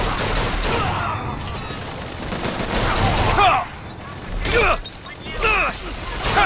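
Gunfire rattles in the video game Bioshock Infinite, with dense bursts of shots and impacts and a voice talking over the din, the volume swelling and falling in waves.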